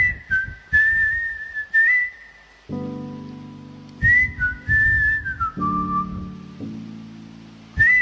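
A person whistles a bright melody in short phrases with brief pauses, joined midway by low, sustained synth-like notes underneath.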